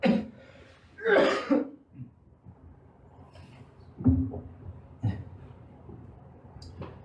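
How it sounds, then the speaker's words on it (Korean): A preacher coughs and clears his throat in the middle of a Sunday church sermon: a few rough, close bursts, the heaviest near the start, then shorter, softer coughs spaced out with no speech. "죄송합니다. 기침이 나서."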